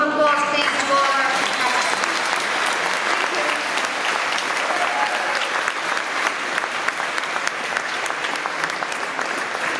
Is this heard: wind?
no